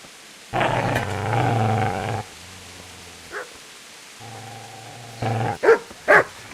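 A dog growls and snarls in a medieval role-playing video game, with two longer rumbling growls followed by a few short sharp barks, moderately loud and without talk over them.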